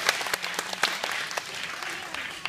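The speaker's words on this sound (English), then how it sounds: "Give yourself a round of applause." Audience at a kindergarten graduation applauding, a dense wash of many hands clapping with sharper individual claps standing out, steady and moderately loud throughout the short burst.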